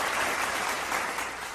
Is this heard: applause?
yes